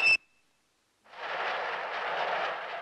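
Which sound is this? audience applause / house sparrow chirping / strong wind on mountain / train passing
train passing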